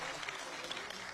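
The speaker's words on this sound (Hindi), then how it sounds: "इतनी कमजोर तालियों से सुरेंद्र शर्मा का स्वागत होता है क्या" Thin, scattered applause from an audience at a Hindi poetry gathering, a soft brief patter of clapping with murmuring voices mixed in, distant and weak.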